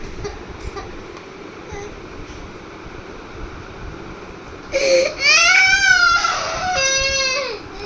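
A child cries loudly at home after being scolded over playing with food, rising wails with a wavering, strained pitch in a few long bursts, following a quiet stretch of room noise.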